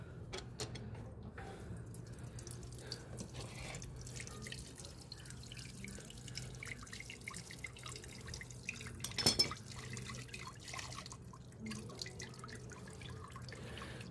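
Old engine oil draining from a Pulsar 150 DTSi UG3 motorcycle engine after a flush oil run, a soft steady trickle with faint drips, plus one brief louder clatter near the end.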